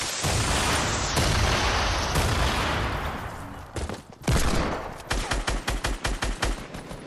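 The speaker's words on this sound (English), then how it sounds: "They're shooting at Rudy" Video game gunfire crackles nonstop: a dense fusillade at first, then a short pause, a heavy boom, and a rapid run of sharp automatic shots, loud and close with no talk.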